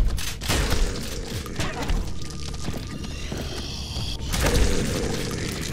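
Explosions in the retro-style first-person shooter Prodeus thud and crash with shattering debris, a few heavy booms rolling over continuous game noise at moderate volume.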